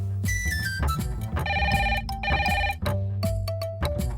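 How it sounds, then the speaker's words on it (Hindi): A telephone rings with a melodic ringtone during a home call in a comedy scene, steady repeating electronic tones playing loud and continuous over a low backing. "लो, मैं फोन लगाता हूँ घर।"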